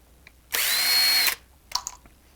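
A power driver spins out Torx screws on a Walter 6141 D electric die grinder being taken apart, one steady high whir lasting just under a second, close and loud, followed by a few faint clicks of handled parts.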